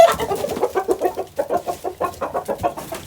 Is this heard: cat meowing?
no